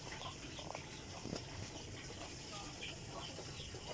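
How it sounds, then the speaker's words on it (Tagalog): Tap water running from a faucet into a cooking pot in a home kitchen while sardines with okra are being prepared; a steady, fairly quiet broadband rush continues throughout with faint background sounds. "Ngayon, papatayin ko na itong aking gripo."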